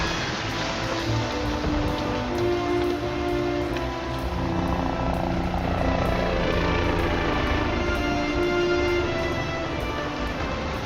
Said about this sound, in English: The rescue helicopter. It's nearly at the barrier.